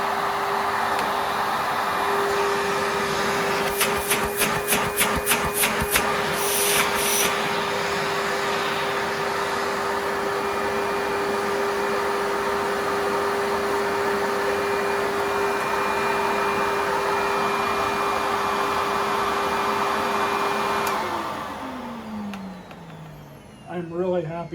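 A Cirrus CR99 upright vacuum cleaner runs with a loud steady whine and roar, a brief rattling patch early on, then the brush roll shuts off and the motor pitch drops and winds down.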